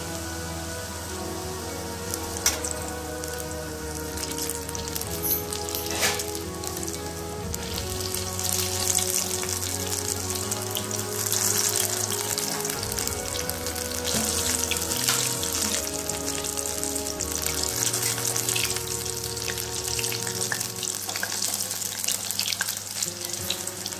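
Green chilli bhajji deep-fries in oil over a low flame, a continuous dense crackling sizzle like rain that holds steady for the whole stretch.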